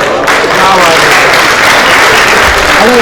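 An audience at an Urdu poetry recital applauds loudly and steadily, a dense crowd clapping that fills the whole stretch.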